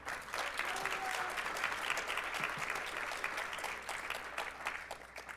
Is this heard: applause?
yes